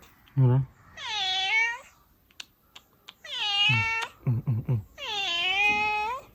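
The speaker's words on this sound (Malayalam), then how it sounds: "സ്ഥിരം പൂച്ച ഇവിടുത്തെ." A domestic cat around a house gives several loud, close, drawn-out meows with pauses between them, plus short sharp taps and chirps.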